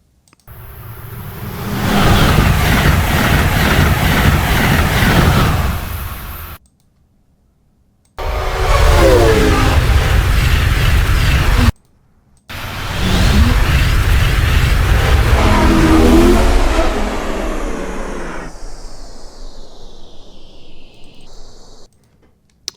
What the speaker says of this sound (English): A-C-E-L-A express train that runs from, I believe, Boston to D.C., back and forth.